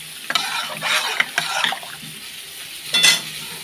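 Dal lentils tipped into fried spices in a pan and stirred, with a few scraping, clattering stirs and soft sizzling, ending in one louder burst of scraping near the close, no talk.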